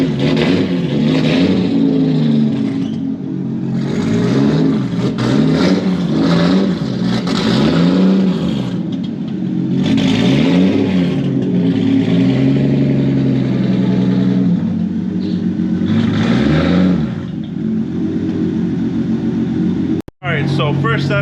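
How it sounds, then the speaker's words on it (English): A turbocharged car with a Borg Warner S366 turbo and 4-inch straight pipe exhaust to a 5-inch tip revs repeatedly, loud rising and falling engine swells returning to a rumbling idle for about twenty seconds. "it is a Borg Warner S366 turbo, 4-inch downpipe, 4-inch mid pipe, 4-inch tailpipe, basically a 4-inch straight pipe up to a 5-inch tip"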